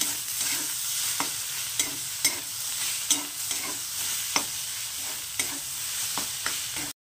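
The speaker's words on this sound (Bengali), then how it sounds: "একদম এবার ভালো করে ভেজে নেব আমের সঙ্গে উচ্ছেটাকে" Bitter gourd and mango frying in a pan, a steady sizzle broken by regular sharp clicks and scrapes of a spatula stirring, close and alone with no voices.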